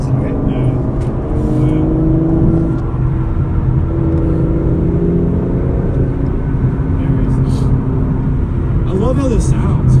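A 2018 Aston Martin DB11 with a V12 engine pulls and accelerates, its engine tone rising and holding loud from inside the cabin, with people talking over it.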